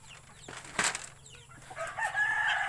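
A bantam rooster crows in a backyard, a clear, fairly close cock-a-doodle-doo that rises over soft clucks and a brief flap of wings.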